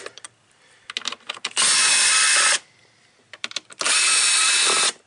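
A power tool backing out 8mm bolts from the air box lid of a 2012 Jeep, scattered clicks and rattles followed by two loud, close whirring bursts of about a second each.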